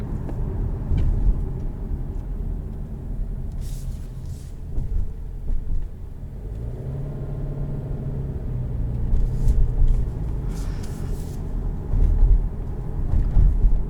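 From inside a 2020 Subaru Legacy on the road, a low engine and tire rumble holds steady, with swells of road noise and a few faint thumps and rattles, and no talking.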